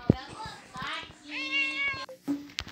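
A tortoiseshell-coloured cat meows several times in drawn-out, rising and falling calls, close and fairly quiet, with brief sharp noises between them.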